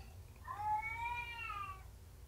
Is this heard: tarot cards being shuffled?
no